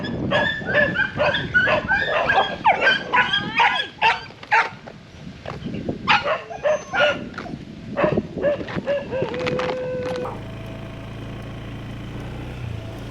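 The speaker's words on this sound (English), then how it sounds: "They are wild dogs, you can't expect them all to be friendly." Several stray dogs on Koh Samui bark and yip in overlapping bursts, with occasional whimpers, fairly close; a steady low engine hum takes over near the end.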